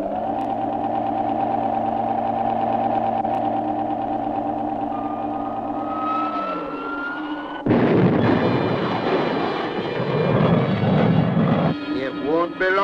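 Whining engine drone of cartoon space fighter craft drawing closer, a sustained tonal hum that bends downward before a loud burst of roaring, rumbling noise and rising whistles takes over; no voices.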